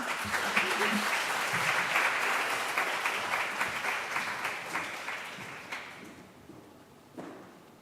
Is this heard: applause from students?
yes